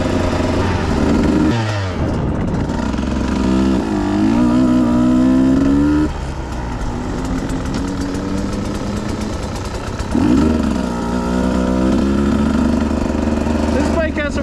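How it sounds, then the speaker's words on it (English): Motorcycle on an icy trail with a whirring front end, its engine droning and revving in rising sweeps, then easing off and climbing again, loud and close throughout. "This bike has some whirring in the front end too."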